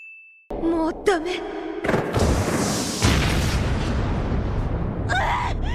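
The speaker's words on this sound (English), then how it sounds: "they have a friggin' cannon on the ship this whole time?" Ship-mounted cannon firing in the One Piece anime: a heavy boom after a short tone, followed by a long rumbling blast that fades slowly, with a chime-like sound near the end.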